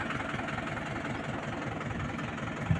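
A heavy tractor engine chugs steadily at a low, rumbling idle during groundnut sowing, close by and continuous, with no voices.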